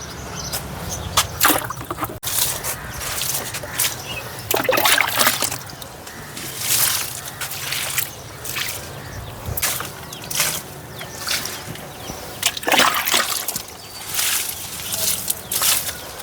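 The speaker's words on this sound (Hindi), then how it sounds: "1 मग में ही आप देख रहे हैं हमने 4 पौधों में इस तरह से खाद डाल दी।" Water-diluted liquid fertilizer trickles from a mug onto vegetable plants in a garden, giving several short pours and splashes spread across the clip, moderately close, with no talking.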